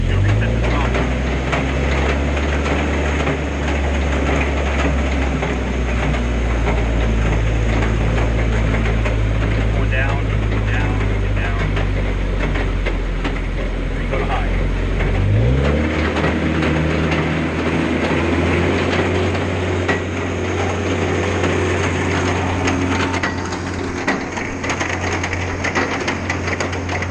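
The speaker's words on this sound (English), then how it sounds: "Oh, the machine will pump." Mayco C30 concrete pump running at a job site, a loud steady engine drone that shifts pitch partway through as the machine changes load, continuing as a constant mechanical roar throughout.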